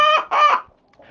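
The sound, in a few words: peacocks calling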